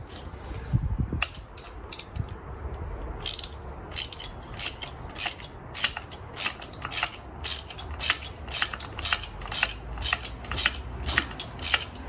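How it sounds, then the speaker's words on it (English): Parts being tightened on a new Harley motorcycle, a rapid close ratcheting of a wrench in repeated bursts of clicks over a low mechanical rumble, with no voices. "What we're going to do now is tighten up these parts and it'll be all good to go."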